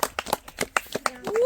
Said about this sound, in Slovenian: en aplavz za drugo skupino in zmaga je vaša